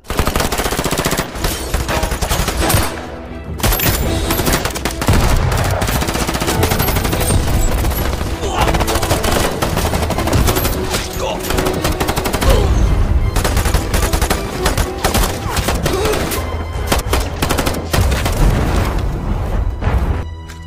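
A movie shootout with sustained machine-gun bursts and gunfire, punctuated by booms, loud and dense throughout with brief lulls.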